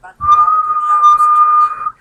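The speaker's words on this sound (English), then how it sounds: "I would just close my eyes and I will blow the whistle" A single sustained whistle blast, steady and high-pitched, held for nearly two seconds before cutting off.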